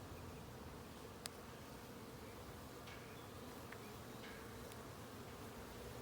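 Honey bees buzz steadily at close range during a spring hive inspection, a continuous low insect drone with a few faint clicks and taps from handling the frames.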